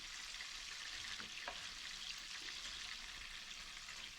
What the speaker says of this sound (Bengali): আমার গলদা চিংড়িগুলো ভাজা হয়ে গেছে